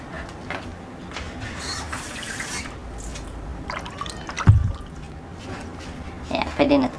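Warm water trickles and drips into a basin while being readied for face washing, with a few louder splashes mixed into the running sound and a person talking over it.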